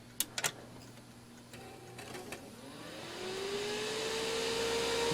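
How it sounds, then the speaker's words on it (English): An old office computer's cooling fan spins up at power-on, starting with a couple of clicks, then a faint whine rising steadily in pitch and loudness over a few seconds. "Power it on, and I'm sure the fan's just going to race out of control."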